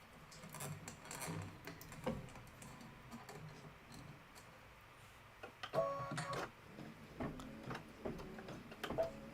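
A sewing machine quietly stitches a tack-down line around a gift box shape in embroidery. Faint rapid ticking and clicking come in uneven bursts, with short pauses between runs.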